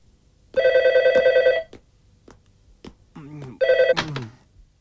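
A telephone bell rings in two loud trilling bursts separated by a pause, close and clear, with brief voice sounds between and after the rings in an animated scene.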